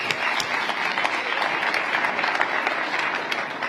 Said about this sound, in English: Y'all can clap for that, come on.